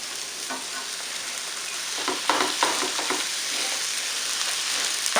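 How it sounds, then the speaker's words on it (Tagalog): Frozen mixed vegetables stir-fry in a pan with a steady, hissing sizzle. Near the middle comes a short cluster of louder crackles and spoon scrapes, and then the even frying carries on with no voices. "So, ilalagay ko na yung mixed vegetable. This is the frozen one."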